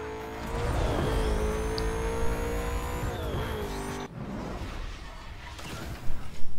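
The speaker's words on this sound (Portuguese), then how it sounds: "Correndo contra o JV" A race car in the Need For Speed Most Wanted video game runs with a steady, loud engine drone that rises and falls in pitch, then the sound cuts abruptly and a few sharp bursts follow.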